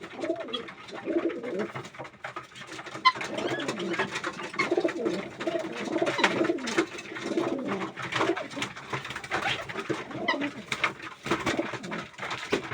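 Hungry pigeons coo steadily while feeding and scuffling over food, a dense close chorus of soft throaty calls with flutters and pecking throughout.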